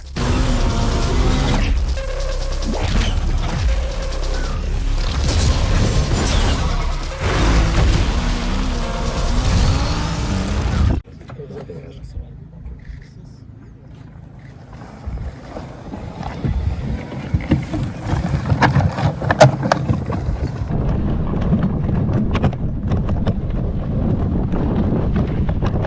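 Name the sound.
Can-Am Outlander Electric ATV being driven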